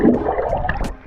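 A GoPro Hero 10, submerged in water without a case, gives off a quick, close burst of bubbles gurgling, lasting about a second.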